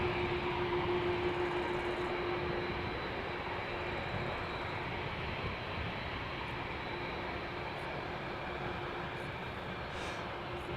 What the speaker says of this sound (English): So these airplanes are taking off to the north.